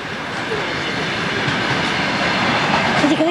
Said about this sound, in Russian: Сейчас такой поезд